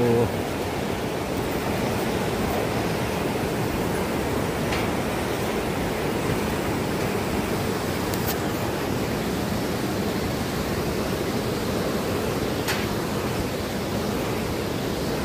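The Ankhu river near a power house area in Dhading, Nepal, rushes past in a steady, full broadband roar of flowing water that stays constant throughout.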